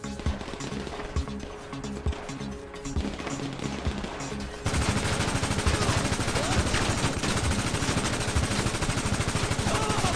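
Sustained automatic gunfire in GTA Online, loud and dense bursts of rapid shots that grow heavier and more continuous partway through, with game sounds mixed in.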